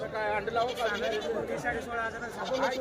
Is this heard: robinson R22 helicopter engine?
no